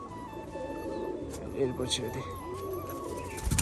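A red female Rajshahi pigeon coos softly amid chirps from other birds, while someone speaks over it in a busy loft.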